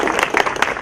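Audience at an English-Speaking Union gathering breaking into a brief, close burst of clapping, loud and uneven for under a second.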